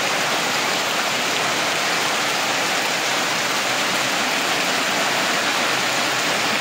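Steady rain falls in the Konkan countryside with a dense, even hiss that holds constant throughout, with no voices.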